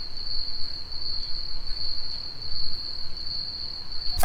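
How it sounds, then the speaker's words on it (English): Crickets trill in a single steady, high-pitched tone that runs unbroken and fairly faint over a quiet hiss. "Crickets."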